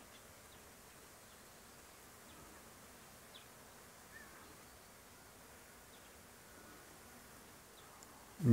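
A swarm of honey bees flies around plum and apple trees near an apiary, making a faint, steady, diffuse buzzing hum that holds evenly throughout, with a brief louder bump at the very end.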